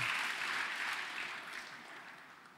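Applause from a church congregation during a worship service, a soft, fairly distant wash of clapping that slowly fades over a few seconds.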